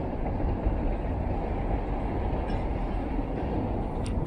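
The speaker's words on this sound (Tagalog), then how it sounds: "Yung train." A train rumbling past at steady volume, a dense low-end roar with no clear wheel clicks, continuous throughout and with no talk.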